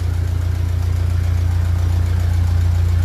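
A 1957 Ferguson 35 tractor with a TVO engine idles in cold weather, giving a steady, deep, rhythmic chugging rumble with a loud exhaust, close and continuous with no talk.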